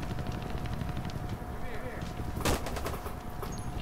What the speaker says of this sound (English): I'm trying to shoot the thing.